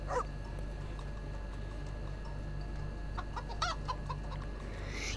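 Chickens clucking in the mobile puzzle game Save the Girl, a few short faint clucks over a steady low background hum, with no one speaking.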